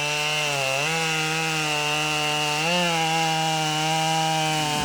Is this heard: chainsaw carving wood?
yes